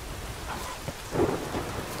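Thunderstorm with rain in the video game The Witcher 3: a steady wash of rainfall, with a rolling thunder rumble swelling near the middle and no speech.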